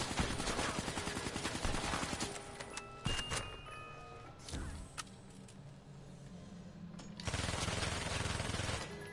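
Automatic AK-47 fire in the shooter Black Ops 3, with rapid rattling bursts at the start and again at the end, broken by sharp clanks and metallic clicks between them.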